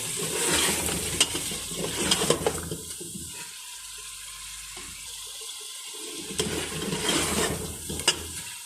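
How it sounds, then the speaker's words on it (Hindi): Potatoes and meat fry in a pot as they are stirred, with a steady sizzle broken by scraping strokes and a quieter stretch in the middle. "आलू डाल दिए हैं, अब अच्छी तरह भुनेंगे इनको।"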